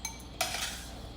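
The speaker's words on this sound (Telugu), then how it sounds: "దీనైతే ఈ గిన్నెలో తీసేసుకుంటున్నా." A spoon clinks against a bowl while mango pickle is scooped in, two sharp metallic taps followed by a brief scraping ring, close and alone.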